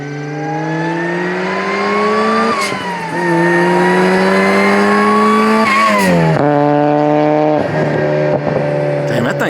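A supercharged Mazda Miata drives by with a loud, strained engine note that holds steady, dips as it shifts, then rises again with a bright whine riding over the rasping exhaust.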